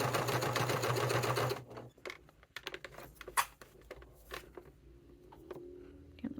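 A sewing machine runs steadily at close range while edge stitching vinyl binding on a satchel, then stops after about a second and a half, leaving scattered clicks and handling noises.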